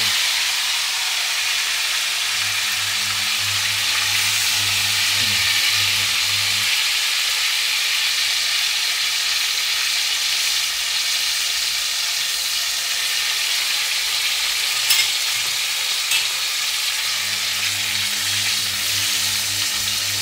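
A pork chop fries in a pan with a loud, constant sizzle and hiss that runs steadily, while a low hum fades in and out beneath it.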